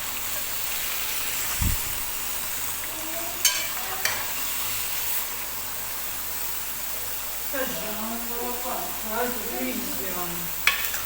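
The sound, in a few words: kuyrdak meat frying in fat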